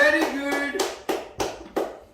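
Five sharp hand claps at a steady, slightly slowing pace, close and clear, with a voice at the start.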